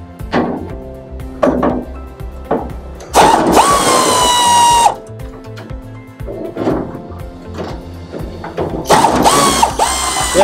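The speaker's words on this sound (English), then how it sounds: "So now take your ratchet, run them out." A hand ratchet backs out 9/16 bolts on a 1972 Cadillac, rapid clicking pawl bursts close up, interleaved with two longer whirring spins of the bolt running free, and clanks of metal between strokes.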